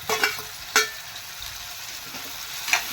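Onion, tomato and curry leaves sautéing in a pan, with a steady close sizzle and a few sharp stirring scrapes.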